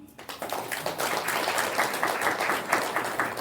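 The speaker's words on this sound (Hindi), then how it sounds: "ताली तो बजाओ।" An audience in a spiritual class hall breaks into sustained applause, rising quickly after a brief start and holding as dense, steady clapping for several seconds.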